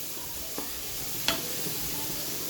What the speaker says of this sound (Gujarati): टामेटું તમારું સોફ્ટ થાય ત્યાં સુધી સાતળી લેવાનું છે